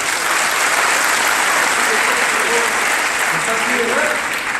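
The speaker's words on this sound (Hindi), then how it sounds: "लड़कों बॉय ताली बजाएंगे जरा" Boys in an audience clap, a loud continuous patter of many hands that keeps up without a break, with a few voices speaking faintly underneath.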